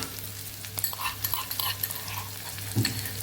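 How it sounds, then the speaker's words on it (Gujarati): Green chillies added to potatoes frying in a pan, with a soft continuous sizzle and light scraping stirs close by, no talking. "અહીંયા લીલા મરચાં ઉમેરી દઈશું"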